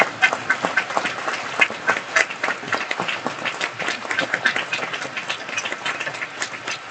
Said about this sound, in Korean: 마스크 쓴 분들을 위해서 박수 한번 치겠습니다.